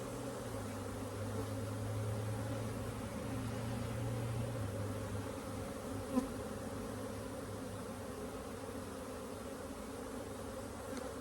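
Honeybees droning steadily around an open, queenless hive during a frame inspection, a continuous close hum with one brief knock partway through and no voices.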